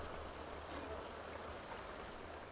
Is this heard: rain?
yes